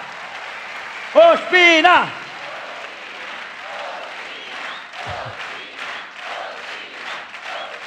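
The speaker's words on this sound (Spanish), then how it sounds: "Un aplauso." A studio audience at a television talk show claps and murmurs at moderate level after a loud shout, and a crowd hum continues in the background.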